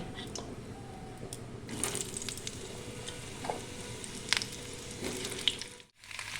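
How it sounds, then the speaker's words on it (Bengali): Potatoes fry in hot oil with cumin, black cumin and five-spice, giving a soft, continuous sizzle close by with faint clicks of stirring now and then. "এবার আমি আলুগুলো দিয়ে ভেজে নেব"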